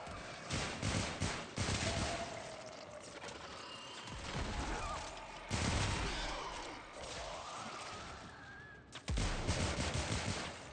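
Rapid automatic gunfire from a video game battle against hive defenses, delivered in long, loud, fast-firing bursts with brief pauses between them, mixed with mechanical clanks and clicks.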